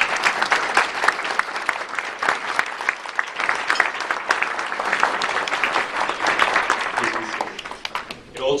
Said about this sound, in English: Please show them a round of applause.